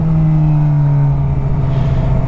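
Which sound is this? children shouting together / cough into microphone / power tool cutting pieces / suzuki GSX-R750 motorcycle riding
suzuki GSX-R750 motorcycle riding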